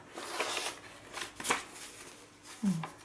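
Scrap papers for a journal are handled close by, giving soft rustling and shuffling with a few sharper crinkles, a faint voice briefly sounding near the end.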